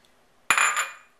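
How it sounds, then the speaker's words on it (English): Coffee ice cubes clatter into a blender jar in one sharp, close burst of rattling that quickly fades away. "I'm going to start by putting the coffee ice cubes in the blender"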